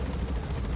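Helicopter in Metal Gear Solid 5: The Phantom Pain, a dense, steady rotor rumble and whir holding at moderate loudness with no talk over it.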